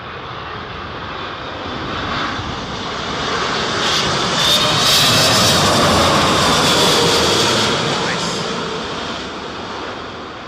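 An airliner lands at Heathrow airport as Storm Isha hits the UK, its engines roaring loud and near, swelling and easing over a broad whoosh of wind.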